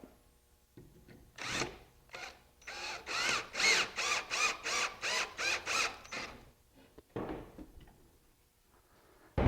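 A power drill drives a screw into a raised panel cabinet frame in a woodworking shop, a rapid series of rhythmic whirring bursts, loud and close, followed by a couple of shorter spins and a pause.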